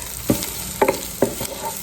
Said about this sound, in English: It doesn't really take long to saute them, so you want to start with your peppers first